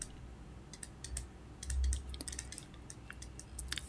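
Button presses on a scientific calculator, a quick run of small light clicks and taps, close and fairly soft, scattered unevenly across the moment with no talking.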